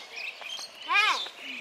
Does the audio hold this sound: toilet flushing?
no